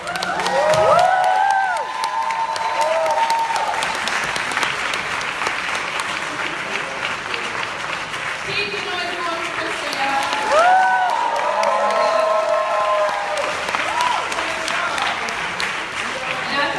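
A crowd at a report release event inside Bethel Lutheran Church applauds continuously, with whoops and shouted cheers rising near the start and again partway through.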